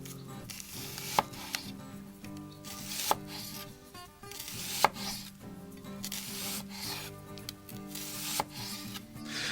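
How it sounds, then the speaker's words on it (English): A knife slices onions on a cutting board for Oklahoma fried onion burgers, giving steady close chopping and rubbing strokes with several sharper knocks as the blade hits the board, with no talking. "So let's go ahead and finish slicing these onions."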